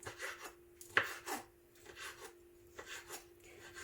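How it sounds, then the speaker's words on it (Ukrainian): Soft, irregular knife cuts through soft dried prunes on a board, a handful of quiet chops with brief pauses between them. "І тож я його нарізаю на дрібні шматочки."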